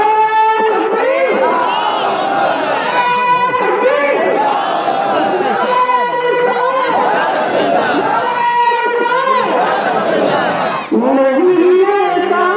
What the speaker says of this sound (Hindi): सभी के मेरे साथ नारा लगाए और एक हाथ उठा के नारा लगाए, नारे तकबीर